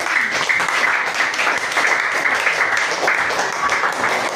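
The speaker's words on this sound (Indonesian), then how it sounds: "Oke, tepuk tangan buat kelompok" Students in a classroom applaud a presenting group with a dense, steady wash of clapping throughout, some voices faintly mixed in.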